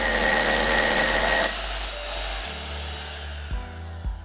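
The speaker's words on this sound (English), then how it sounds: "Start by drilling the hole to the correct diameter and depth." A power drill whirs loudly at full speed while drilling an anchor hole, then winds down to a lower hum, with a couple of brief bumps as it slows.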